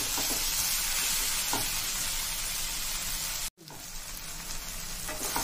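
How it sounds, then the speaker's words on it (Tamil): Onion, tomato and coconut sautéed and stirred together in a pan for a brinjal tamarind curry: a dense, close, continuous sizzle with a brief dropout partway through. "வெங்காயம் தக்காளி தேங்காய் எல்லாம் நல்லா கலந்துக்குங்க."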